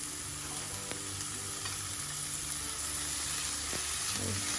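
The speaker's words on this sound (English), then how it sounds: "Next step, I'm gonna add the ground beef." Ground beef sizzles steadily in hot oil seasoned with ginger, cooked for Malagasy sambos street food; a close, continuous crackle with faint scraping and stirring clicks, and no voices.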